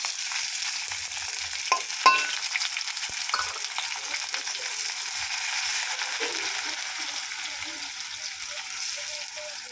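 Chopped onion hitting hot oil in a pan for an okra and potato curry, a soft continuous sizzle with a couple of sharper stirring clinks early on, fairly quiet and close.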